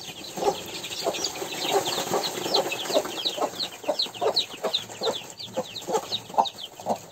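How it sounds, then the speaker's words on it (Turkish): A broody hen clucks repeatedly in a steady rhythm while chicks rush to feed, their high peeping scattered close by throughout. "Gurk tavuğumuzun çıkarttığı seslerle civcivler yeme doğru hücum ediyor."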